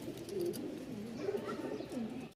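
Pigeons at the Mirpur pigeon market coo in soft, repeated low phrases, several close calls overlapping against a busy background.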